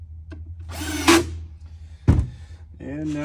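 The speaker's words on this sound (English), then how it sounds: "I'm going to attach with short pan head screws again." A power drill briefly drives short pan head screws into a wall cabinet panel during flat-pack assembly, two short close bursts separated by a pause, with someone talking before and after.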